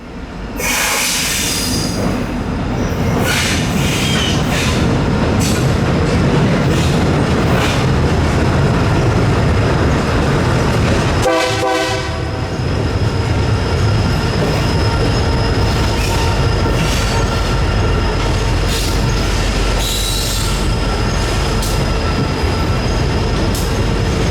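A freight train, a Cummins-repowered former Union Pacific SD90MAC-H2 locomotive on the Yadkin Valley line, rumbles past close by for a long stretch, wheels clattering and squealing on the rails, with a brief high screech midway.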